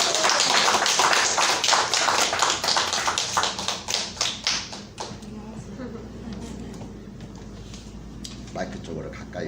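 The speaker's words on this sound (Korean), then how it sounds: "박수!" Applause at a church service as a congregation welcomes a young woman to the front: dense rapid handclaps, loud and close, gradually thinning out after about five seconds into scattered claps and room noise.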